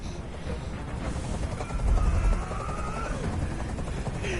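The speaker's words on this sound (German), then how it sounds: "Dieser Helikopter soll verschwinden." A helicopter in the video game Detroit: Become Human gives a low, steady thrumming chop that stays fairly quiet under other game sounds and swells briefly midway.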